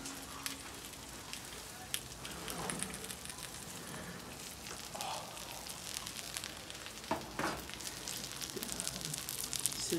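Steady crackling sizzle of pizza frying hot on a pan, continuous for the whole stretch with occasional louder pops and rattles close by.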